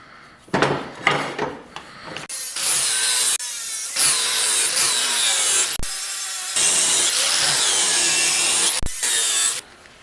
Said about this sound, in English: We're going to use a 40 grit flapper wheel.